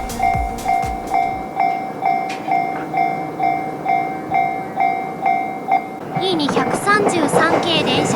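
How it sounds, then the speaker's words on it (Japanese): A level-crossing bell on the JR Itsukaichi Line in Akiruno, Tokyo, dings in a steady, repeating rhythm, then an E233 series electric train rushes past close by, its rumble and whine taking over. "E233系電車が通過します"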